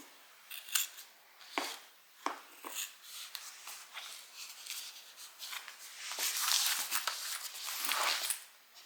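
Scissors cutting off excess fabric for a sewing project, a close series of crisp snips and sliding cuts, some sharp and some longer, with no talk.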